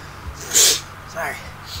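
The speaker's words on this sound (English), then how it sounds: "Oh, I hate when you get stuck with like a half sneeze and you're about to sneeze and it goes away and it keeps coming back." A single sharp human sneeze bursts out mid-moment, near and loud, followed by a softer breathy sound, with faint game sounds underneath.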